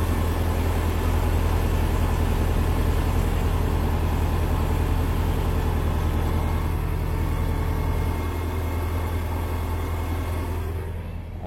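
A Porsche 718 Cayman 300 hp with its sport exhaust switched on and the engine still cold idles steadily, heard from inside the cabin as a low, even hum that softens slightly near the end.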